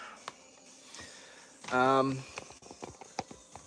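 A cat stuck and being coaxed free lets out one short, loud meow in the middle, with soft scuffling and handling noises around it and someone talking gently nearby.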